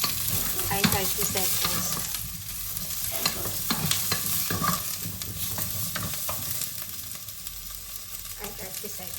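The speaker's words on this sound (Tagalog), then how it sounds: "Tapos, ilalagay ko na yung onion." Onions frying in a pan for a shrimp and leftover lechon sinigang, a steady close sizzle broken by stirring scrapes throughout, with a brief spoken remark over it.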